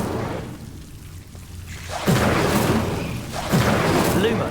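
Incendio fire spell cast in Hogwarts Legacy, two loud whooshing bursts with booming low thumps, each rising sharply then sustaining as a roaring blaze, close and full.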